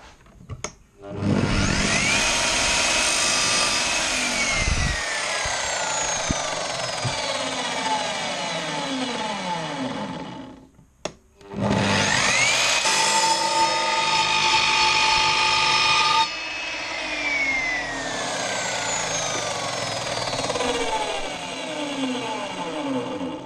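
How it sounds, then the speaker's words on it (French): An Evolution Rage 3S radial miter saw with a worn blade cuts through wood in two long, loud, harsh passes, separated by a brief pause, with the motor winding down after each cut. "je vous laisse apprécier les capacités de sciage et le bruit qu'elle fait quand on coupe du bois"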